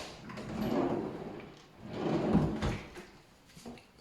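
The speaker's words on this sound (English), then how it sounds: "Smooth running drawers." Smooth-running wooden kitchen drawers in a farmhouse-style kitchen roll open and shut twice, each a soft gliding rumble ending in a muted thud, close and unhurried with no speech.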